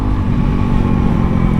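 A Honda CRF300L fitted with a MotoX exhaust runs at speed, its engine droning steadily and loudly up close with wind rumble, no voices.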